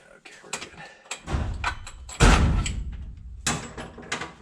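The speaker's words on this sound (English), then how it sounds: "That's the sound of high-quality fitting doors." Door of a 1962 Chevy Corvair van swung shut, a couple of mechanical clunks followed by one solid, heavy thud, close by and loud, with a voice speaking around it.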